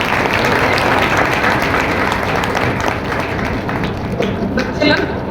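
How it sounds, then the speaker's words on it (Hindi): Loud, dense applause fills a church hall during a Sunday service, steady clapping from the congregation that thins slightly toward the end, with voices mixed in. "ताली बजाइए।"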